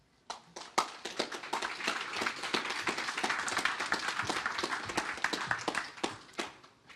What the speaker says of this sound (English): Once again, big round of applause.